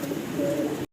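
Giant Homer and Budapest pigeons give a single close, loud, throaty coo that lasts about a second and then cuts off abruptly.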